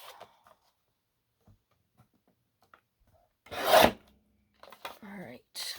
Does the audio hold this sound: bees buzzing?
no